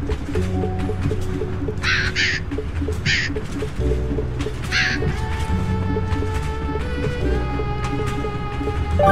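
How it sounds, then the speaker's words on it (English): Crows caw in short bursts, several times in quick succession, aboard a train in the video game A Hat in Time, over a steady bed of game music and ambient rumble. "Did you notice that there's suddenly a lot of crows on this train?"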